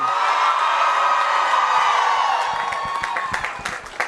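A large outdoor political rally crowd in Eugene cheers and whoops loudly and continuously, with scattered clapping growing more distinct as the roar slowly eases.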